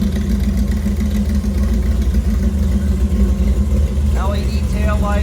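A 1956 Chevrolet 3100 pickup with a 350 crate V8 idles close by in a deep, steady, throaty rumble, while brief chirping sounds rise over it near the end.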